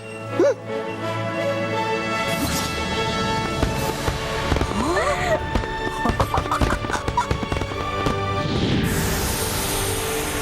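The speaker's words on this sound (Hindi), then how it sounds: "इस पटाखे के फूटते ही इसमें से उपहार निकलेगा बच्चों के लिए" Firecrackers burst in a rapid crackling flurry, sharp pops and crashes scattered over a steady background hum, fairly close and loud.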